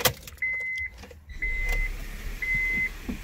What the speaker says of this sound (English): Let me start the vehicle